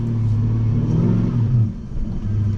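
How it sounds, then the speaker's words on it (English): A car engine fitted with an intake amplifier and a light flywheel revs in a low, rumbling drone, the pitch swelling and dipping as the throttle is blipped, close and loud with no talking. "and I have to rev it a little bit."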